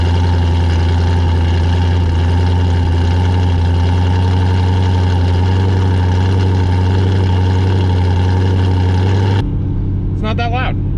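Chevrolet Camaro exhaust in tour mode while driving, a steady, fairly tame low engine drone that cuts off near the end before a brief voice.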